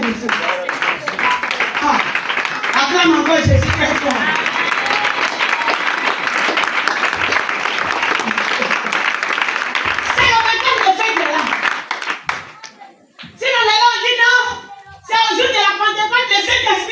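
A church congregation at a Pentecost seminary claps and cheers in acclaim of Jesus, loud sustained applause with shouting voices, briefly dropping before a second burst of clapping and cries.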